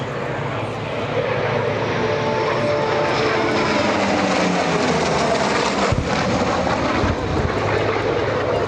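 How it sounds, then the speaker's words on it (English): A Super Hornet jet and a World War II F4U Corsair fly past together at an air show, a loud sustained aircraft engine roar with a sweeping tone shift as they pass, with an announcer's voice over it. "As our Super Hornet joins up with the World War II F4U Corsair"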